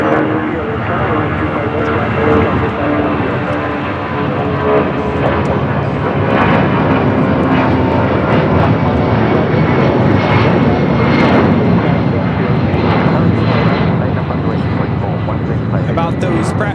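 A jet airliner at LAX airport produces a loud, continuous broadband engine roar that holds steady for the whole stretch, with faint voices underneath.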